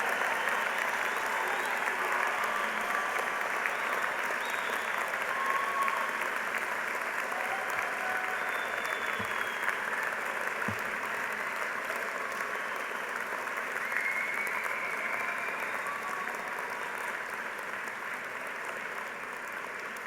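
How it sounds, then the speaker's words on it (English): Steady, sustained applause from a large convocation audience of friends and family honouring a 50th anniversary university graduating class, filling the hall evenly for the full stretch and easing slightly toward the end. "I ask your friends and family to join me in applauding the amazing 50th anniversary graduating class"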